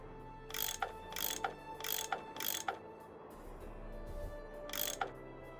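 Faint mechanical clicking from a tool unscrewing bolts in a Nancy Drew video game, a series of evenly spaced ratchety clicks in two groups, over a quiet low hum.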